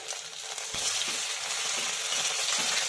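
Boiled potato pieces drop into hot oil tempered with mustard seeds, cumin and asafoetida, starting with a sharp clatter that turns into a steady, close sizzle which continues evenly, with no voices over it.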